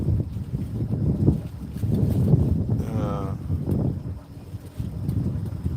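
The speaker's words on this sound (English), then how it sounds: "How's that wind, y'all? Is that making too much noise?" Low, rumbling wind buffeting a microphone, steady throughout with a brief tonal whistle midway; no clear talking.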